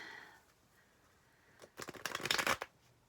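Tarot card decks are shuffled close by in a brief riffling flutter of papery snaps lasting about a second, after a quiet stretch with no speech.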